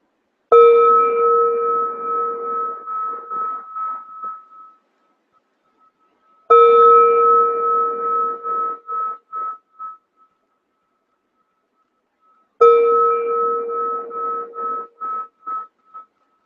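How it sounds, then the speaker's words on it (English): A meditation gong is struck three times, about six seconds apart. Each stroke gives a bright, ringing tone that fades slowly over several seconds, heard alone in a quiet room. "we are going to start our breath awareness meditation with this gong."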